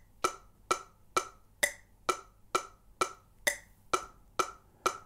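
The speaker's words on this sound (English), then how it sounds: "So a beat one marker sounds like this" Metronome clicking steadily in 4/4, about two beats per second, with every fourth click on beat one accented slightly louder and brighter; sharp, close, dry ticks with nothing else behind them.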